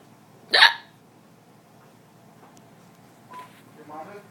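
A single sharp hiccup bursts out near the start, loud and abrupt. A couple of softer vocal sounds follow later, and otherwise it is quiet.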